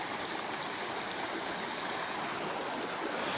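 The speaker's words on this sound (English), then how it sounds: "Can't believe how much water's flowing through here." A stream swollen after heavy rain rushes steadily and loudly past, a dense continuous roar of churning water with no break or voice.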